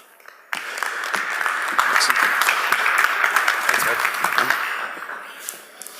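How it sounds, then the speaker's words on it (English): An audience at a fireside chat on AI and automation breaks into warm applause after a brief quiet start, full clapping that holds steady and loud, then thins out near the end. "I would love to welcome Jason and Matt Marshall of VentureBeat with a warm round of applause."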